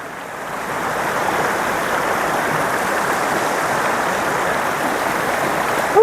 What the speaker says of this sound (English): Look how pretty this creek is.